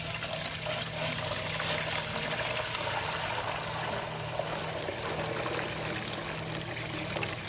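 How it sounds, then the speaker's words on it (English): Water poured from a bucket back into a sonic cleaner tank, a steady close trickling and splashing stream that runs evenly throughout without a break. "I'm gonna pour that bucket right back in there without making a giant mess."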